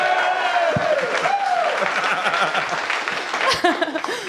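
Live audience at a wrestling podcast show in Glasgow applauding and cheering, steady crowd clapping with scattered voices and laughter mixed in, while a voice talks over the noise.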